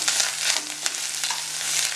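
Black-eyed peas masala with fresh coconut is stirred and sautéed in a pan, giving a close, steady sizzle with soft scraping strokes and no voices.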